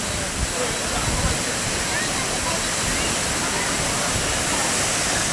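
A waterfall at Bhalepung, Tippi, Arunachal Pradesh roars in a steady, dense, broadband rush, loud and close, with no break for the whole stretch.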